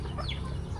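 Village chickens cluck briefly nearby, a short burst of soft hen calls in a quiet farmyard with low background noise.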